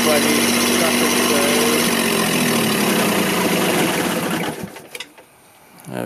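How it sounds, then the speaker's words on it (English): A Kubota diesel engine on a 12V alternator generator rig runs steadily and loud, then shuts down near the end, its drone cutting out into near silence with a few small clicks and rattles. "There we go, the engine stops."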